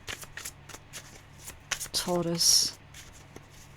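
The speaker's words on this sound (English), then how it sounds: "It's quite a hard deck to shuffle because this one's like 4 decks in one" A large blended tarot deck, several decks combined into one, is shuffled by hand in a few quick riffling bursts of papery card flicks, close and clear, with a voice speaking briefly.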